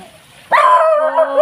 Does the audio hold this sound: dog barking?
yes